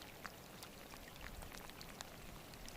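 Light rain at a Scottish Highland loch, a faint, steady patter with scattered individual drops ticking on nearby surfaces, quiet and continuous.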